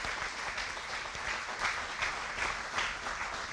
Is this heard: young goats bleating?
no